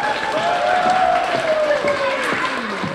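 Applause from an audience at an elementary school honoring event fills the room for the next speaker, a dense, steady wash of clapping with a voice carrying over it throughout.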